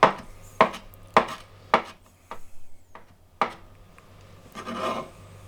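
Knife chopping food on a plate while making baked chicken and black rice: about seven sharp, separate knocks at an uneven pace, close and fairly loud, with quiet scraping and rubbing between some of the strikes.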